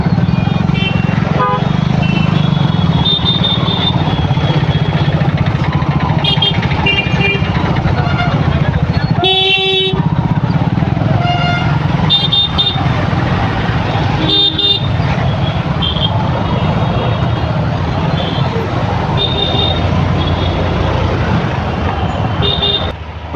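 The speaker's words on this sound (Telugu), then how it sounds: "ఓహో బైక్ నాది పల్సర్." Bajaj Pulsar motorcycle riding through busy traffic, its steady engine drone continuous and loud throughout, with car and bus horns tooting nearby and people talking over the road noise.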